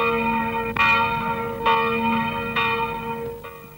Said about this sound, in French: La cloche du village, un jour de semaine et au début de l'après-midi.